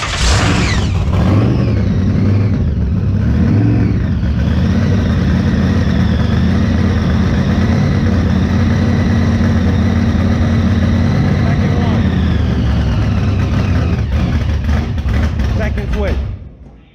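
A Model A truck with a blown small-block engine running on E85 roars loudly and steadily for about sixteen seconds, its deep rumble filling the clip before cutting off at the end, with voices faintly mixed in.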